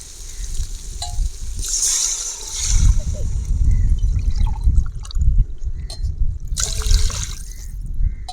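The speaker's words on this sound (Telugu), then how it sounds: "కొలత నీళ్ళు పోస్తున్నా" Water poured into a pot for egg biryani in a home kitchen, with a loud, close gurgling splash in several bursts, alongside brief clinks and stirring sounds.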